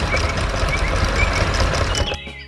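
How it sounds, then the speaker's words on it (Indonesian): An animated green truck works a farm field, its steady engine rumble and mechanical clatter running loud and continuous before cutting off abruptly near the end. "Truk hijau sedang bekerja keras."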